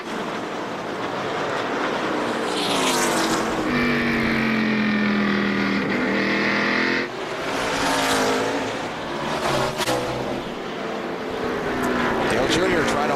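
A 2003 NASCAR Cup stock car engine revs up with a rising whine as the driver gets back on the gas after braking, loud and close, mixed with crowd or track noise and commentary voices over it.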